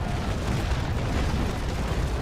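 A steady, dense rumble of ship cannon fire in the Naval Action game, the Prince against the Mercury, with low booms blending into a continuous roar at moderate level and no talking.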